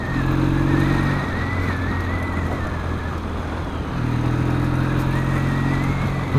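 A motorcycle fitted with tuned carburettors and silencers runs steadily nearby, its engine note rising and falling in two smooth revs over an even, muted drone.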